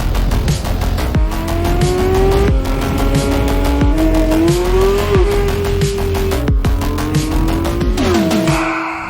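A Porsche GT3 RS track car drives hard with a sustained engine note rising and falling through gear changes, tires squealing loudly through corners, close and continuous for several seconds.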